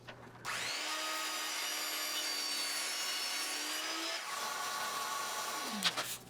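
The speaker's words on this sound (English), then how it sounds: "I could cut them to length over at the miter saw all at once" A miter saw cuts taped-together wood pieces to length in a woodworking shop, one long steady whining cut that runs for several seconds before the blade spins down, loud and close.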